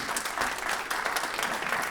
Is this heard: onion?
no